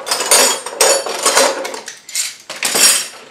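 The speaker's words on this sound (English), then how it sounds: "with the wrenches, screwdrivers, the family of pliers type things" Metal hand tools such as wrenches, screwdrivers and pliers clink and clatter as they are sorted, a run of close, bright metallic knocks in irregular bursts with short pauses.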